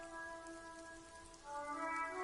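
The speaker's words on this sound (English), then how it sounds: "All around you, rain falls on the great city of Revachol." Rain falls over a great city in a video game, a steady soft patter under a faint tonal musical hum that swells slightly near the end.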